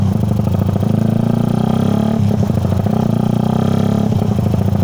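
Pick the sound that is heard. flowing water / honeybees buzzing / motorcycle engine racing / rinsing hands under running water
motorcycle engine racing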